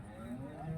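A low, drawn-out moo from a bull, steady and fairly close, at a livestock market, with a faint murmur of voices in the background.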